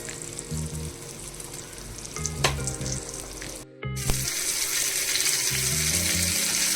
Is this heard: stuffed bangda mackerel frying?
yes